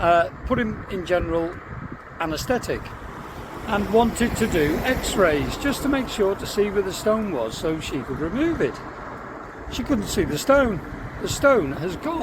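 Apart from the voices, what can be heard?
road traffic noise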